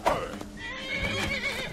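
A horse in the Skyrim video game lets out a loud, close neigh, followed by a rising whinny and faint hoof clops over background game sound.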